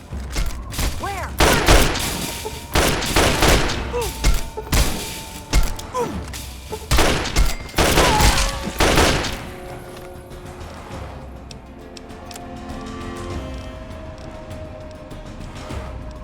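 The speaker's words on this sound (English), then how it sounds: "Open fire!" Gunfire from weapons in Fallout 3, a burst of sharp repeated shots and thuds over roughly the first nine seconds, loud and close, then fading to quieter ambient game sound with some voices.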